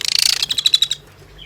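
Several quick bright chirps from a tame jalak suren, an Asian pied starling, close by, a fast run of tweets followed by a shorter burst of a few sharper notes, then quiet.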